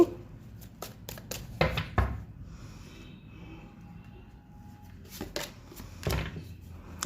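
Tarot cards are pulled from the deck in a quiet room, with a handful of sharp, papery flicks and shuffles clustered at the start and again near the end, close and fairly soft.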